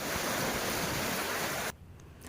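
Floodwater in a swollen village river rushes past in a loud, broad roar close to the microphone, then cuts sharply to a much quieter background for the last moments.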